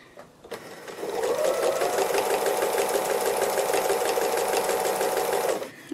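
A sewing machine stitches free motion embroidery hearts in one continuous, fast, even run of about five seconds, close and loud after a short quiet start.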